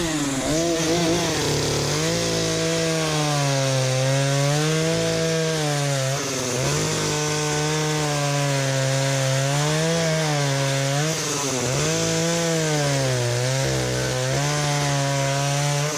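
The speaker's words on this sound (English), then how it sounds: "So we're going to put this back on the chainsaw and let you see how it works" Chainsaw fitted with a freshly sharpened chain cutting through wood, its engine loud and close, pitch rising and dipping repeatedly as the bar bites and eases through the cut.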